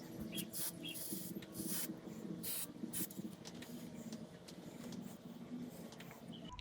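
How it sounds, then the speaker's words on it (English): Contact cement sprayed from a can onto a car's thermostat housing during a radiator replacement on a 1991 Toyota Tercel, heard as several short bursts of hiss over a steady low hum. "I'm going to be spraying in here and I'm going to be gluing the thermostat onto my"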